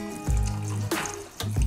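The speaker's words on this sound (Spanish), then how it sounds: "yo le voy a echar un poquito de agua, para cubrir esto un poquito" Water is poured from a glass into a pot of beef stew being cooked, giving a brief close splashing pour in a couple of bursts.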